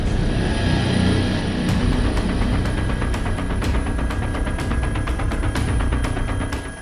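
Loud, constant rotor and engine drone of a helicopter in flight from San Salvador, El Salvador, heard from close by, with a regular beating pulse throughout.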